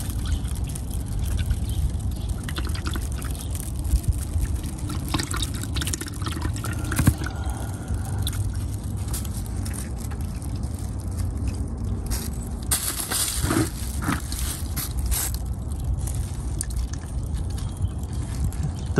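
Engine oil drains through a ValvoMax drain valve, a steady low pouring and trickling rush that carries on evenly throughout, close and fairly quiet, with faint clinks and no talk.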